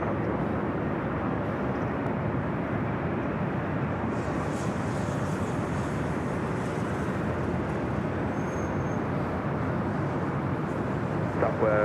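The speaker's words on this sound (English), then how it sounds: "Japan Airlines Dreamliner coming in from Osaka, Japan, now crossing over 24 left." A Japan Airlines Dreamliner airliner from Osaka taxiing across runway 24 left at LAX. Its steady, broad jet engine rumble holds at a constant level the whole time.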